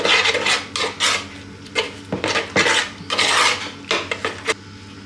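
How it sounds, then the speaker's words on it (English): A dessert spoon mixes Welsh rarebit mixture with mustard in a bowl, producing repeated scraping and clinking strokes against the bowl in an irregular, busy rhythm, close and fairly loud. "and then just give it all a good mix"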